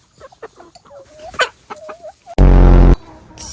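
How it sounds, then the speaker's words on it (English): Farm chickens cluck in a series of short, close, chattering calls with a few rising squawks, then a burst of loud wind or handling noise cuts across for about half a second. "Why are chickens so funny?"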